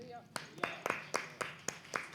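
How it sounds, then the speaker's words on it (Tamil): A congregation at a Sunday church service claps hands in a steady rhythm, about eight sharp, evenly spaced claps over a couple of seconds, fairly close and clear. "சந்தோஷப்படல எல்லாரும் கைத்தட்டு போடுங்களேன்."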